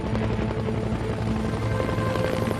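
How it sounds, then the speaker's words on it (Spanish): A turbine helicopter flies close and loud, its rotor producing a steady, rapid chopping beat over a continuous engine whine, with no voices. "El helicóptero de turbina fue el símbolo de la guerra de Vietnam."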